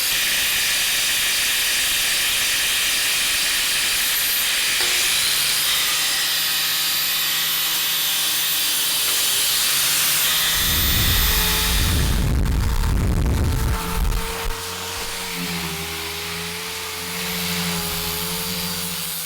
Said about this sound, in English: I bet I have a flap wheel and an angle grinder that I can use for this.